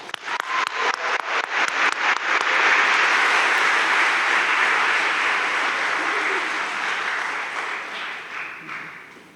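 An audience at a Carleton College convocation applauds to welcome Wyna Liu. The clapping starts as scattered claps, swells into dense, sustained applause, then tapers off near the end.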